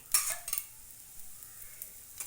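Paratha frying in oil on a pan: a short sizzle with quick hissing bursts and light scraping near the start, fading to a soft low crackle.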